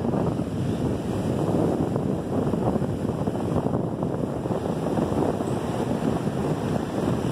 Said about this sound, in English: The audio might not be that good because it's pretty windy.